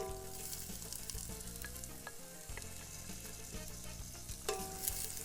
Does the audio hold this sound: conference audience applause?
no